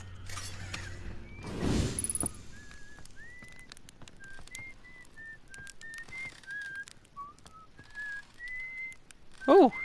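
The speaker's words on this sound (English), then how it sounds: "Oh, he actually is whistling." A character in the Outer Wilds video game whistles a slow, wandering tune of clear sustained notes, moderately loud over quiet ambient game sounds with occasional clinks and a brief burst near the start.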